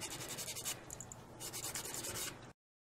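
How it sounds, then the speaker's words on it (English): Fine grit side of a nail file rubbing across natural nails to roughen off the surface shine, a close, steady scratchy rasp of back-and-forth strokes lasting about two and a half seconds before stopping. "just going to take the fine grit on the back of a McCart nail file. And you're going to roughen up that surface"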